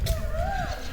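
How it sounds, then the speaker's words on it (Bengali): A single peacock call rises and falls in one short, clear wailing note, heard at moderate distance over low background rumble at a green, forested Buddhist monastery in the Dooars. "ময়ূরের ডাকও শুনতে পাচ্ছি"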